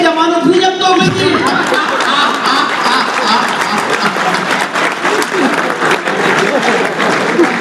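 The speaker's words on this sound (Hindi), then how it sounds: "तालियां तो पूरा सदन इस बात पे बजाएगा" A crowd applauds loudly and continuously at a Hindi poetry gathering, dense clapping filling the whole stretch, with a voice briefly audible at the start.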